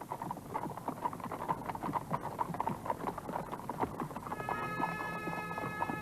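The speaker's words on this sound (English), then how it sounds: "I saw the young god king riding slowly by on his grey horse." A grey horse ridden slowly in Tibet, its hooves clip-clopping in a steady, unhurried rhythm at moderate distance, with soft background noise and a faint tonal hum entering toward the end.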